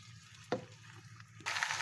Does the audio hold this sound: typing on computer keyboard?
no